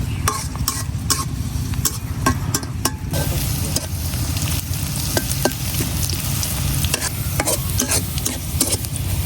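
Garlic and onion frying in oil in a pan for a lentil and winter bottle gourd dish, with steady dense sizzling and repeated spatula stirring scrapes throughout, no voices.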